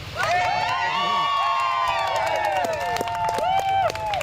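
Community crowd welcoming a veteran home from an honor flight; loud, continuous cheering with high whoops and shouts, including children, with claps mixed in throughout.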